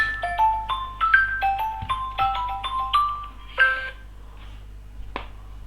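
An off-delay timer running after being switched off, giving a quick series of bright, tonal electronic ticks and beeps for about four seconds, then one last isolated click, close and clear with no talking.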